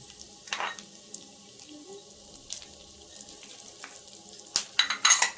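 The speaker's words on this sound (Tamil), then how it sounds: "இது பாருங்க, எல்லாத்தையும் இப்படி வறுத்து எடுத்துக்கலாம். சவுண்டு கேட்குது பாருங்க, படப்படன்னு." Watermelon seeds, cashews, pumpkin seeds and pistachios fry in oil, giving light sizzling and scattered crackling pops that become sharper and more frequent toward the end, with no talk.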